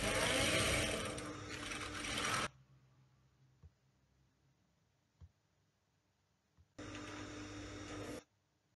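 A sewing machine stitching fabric in a small home business, loud continuous mechanical whirring in two bursts of about two seconds each, separated by a quiet pause with faint clicks.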